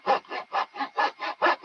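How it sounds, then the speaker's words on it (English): A blade trims off wood sheeting on a model, in eight even back-and-forth rasping strokes, close and clear with no talk. "put a blade down through here and trim it off"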